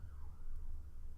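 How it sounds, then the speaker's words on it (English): A faint siren wails in the distance under a low, steady background hum, its pitch sliding slowly across a short stretch with no talk over it. "That was a siren."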